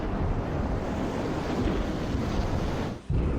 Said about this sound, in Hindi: समंदर में ऐसी सुनामी लाने के पीछे मंशा क्या है।